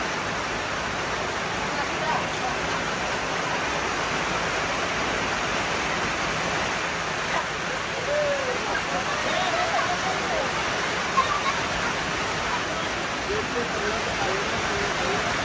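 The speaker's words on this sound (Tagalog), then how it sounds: "Lakas ng ulan." Heavy rain pours steadily in Baguio, a dense, unbroken roar of broadband hiss that stays loud and even throughout, with faint traffic-like rumble beneath.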